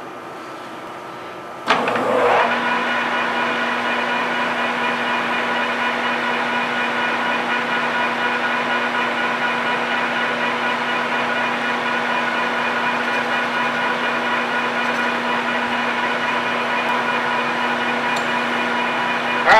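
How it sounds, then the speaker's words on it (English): A lathe taking a 100 thou radial cut on the outer diameter of a mild steel bar at 600 RPM and 8 thousandths per rev. It starts with a sharp onset, then a steady machining hum with a constant tone runs unbroken to the end. "I'm going to take a 200 thou cut off the OD, be 100 thou radial at 8 thousandths per rev"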